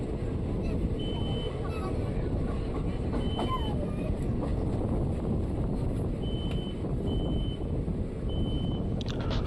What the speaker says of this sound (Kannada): ನಮ್ಮ ಟ್ರೈನ್ ಈಗ ಬಂಗಾರಪೇಟೆ ಜಂಕ್ಷನ್ಗೆ ಎಂಟ್ರಿ ಆಗಿದೆ